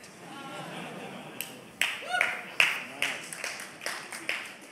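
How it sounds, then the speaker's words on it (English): Audience at a design industry talk breaks into clapping and laughter, a scatter of sharp hand claps swelling over a few seconds in a hall, fairly close and moderately loud. "Yeah, you can clap at that"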